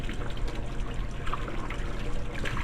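Water from a tap runs and splashes over soapy hands, a steady soft trickle and patter with no voice.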